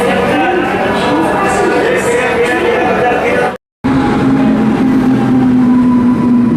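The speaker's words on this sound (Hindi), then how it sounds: "भिलाई के गोयल TMT WP7 के साथ 58206 इतवारी रायपुर पैसेंजर।" The 58206 Itwari–Raipur passenger train, hauled by a WP7 locomotive, gives a loud, close, continuous rolling rumble with a droning hum; the sound cuts out for a moment midway, then resumes.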